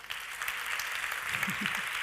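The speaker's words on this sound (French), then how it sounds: "On peut les applaudir, s'il vous plaît." Applause from an audience at a business awards ceremony, a soft, steady patter of many hands heard from a distance, with a low murmur of voices under it near the end.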